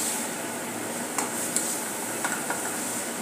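A thick masala that has released its oil is stirred in a pan over a low flame for a drumstick and potato bhaji. A soft sizzle runs underneath a few light spoon taps and scrapes.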